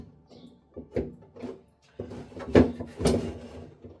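An MGB GT window winding mechanism being fitted into the car door, giving a run of close knocks and clunks of metal against the door panel, with quiet gaps between them and a heavier cluster of bangs near the end.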